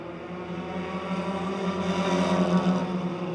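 Super Compact race cars circle the oval at Motordrome Speedway, their engines blending into a steady droning buzz with a strong tonal whine that builds slightly in loudness, heard alone without talk.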